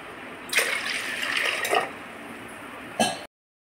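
Water poured into a pressure cooker holding wheat and chana dal, a steady close splashing stream lasting a few seconds with a short extra splash near the end, no talk.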